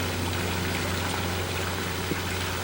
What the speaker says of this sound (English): it's just this little trickle that gives the greatest sound to live by